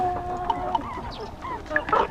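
Chickens raised on a hillside farm cluck in short, scattered calls at a moderate distance, a soft irregular patter over quiet outdoor background.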